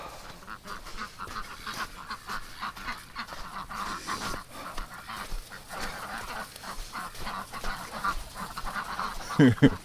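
Ducks on a backyard deck in winter, a busy cluster of quacks and honks close by, with a person talking over them at times.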